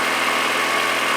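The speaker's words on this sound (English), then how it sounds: "The idle air control valve. Idling fine." Kia car engine idling steadily nearby, a continuous even drone with no change in pitch or level and no voices.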